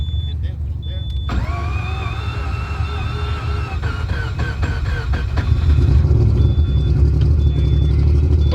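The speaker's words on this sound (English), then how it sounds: "What's really important to note is that the car started up on the first turn." A Mazda 20B rotary engine car cranks and starts up on the first turn with a weak battery, then idles loudly with a steady harmonic drone that grows stronger near the end; people talk over it.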